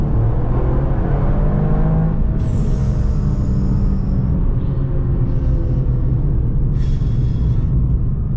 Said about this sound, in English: It's got like a little whistle, like the wastegate when you lift off